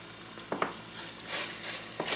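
A shepherd's pie filling sizzles quietly in a pan as a spoon scrapes through it in a few short, soft strokes, close but low in level.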